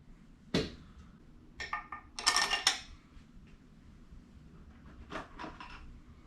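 Metal bolts for a Subaru engine rebuild clink and rattle in a pan, in a few short, faint, close bursts of jangling with quiet gaps between them.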